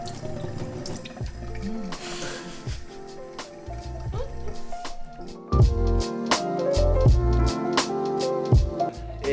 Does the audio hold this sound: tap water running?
yes